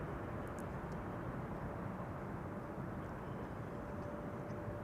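An Etihad airliner roars steadily on its takeoff run from the center runway at Amsterdam Schiphol, a broad, constant engine rumble heard from a spotting position with no talk.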